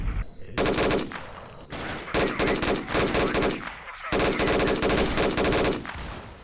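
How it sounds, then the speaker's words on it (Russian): Loud bursts of machine gun fire from S.T.A.L.K.E.R., a shooter video game, come in three long rapid-fire strings separated by short pauses, with dense repeated shots close up. "Пулемет."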